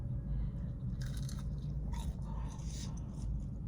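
Someone chews food close to the mic, with a few crunchy bites over a low, steady background hum.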